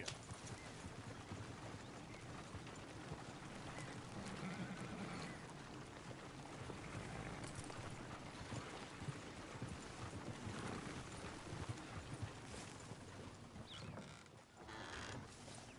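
Horse hooves in Red Dead Redemption 2, a continuous clip-clop of trotting under creaking tack and game ambience, fairly faint throughout.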